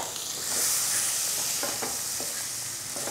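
Boiled potato pieces with garam masala fry in hot oil with a continuous loud sizzle. A spatula gives a few soft scraping stirs along the way, and no voices are heard.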